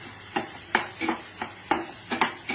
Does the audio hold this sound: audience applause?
no